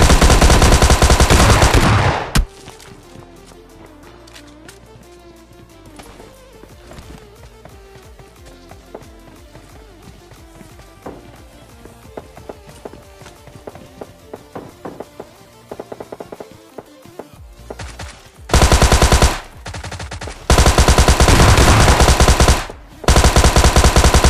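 Automatic gunfire in the battle royale shooter PUBG Lite crackles in loud bursts at the start and again near the end, with scattered quieter shots and game sounds in between.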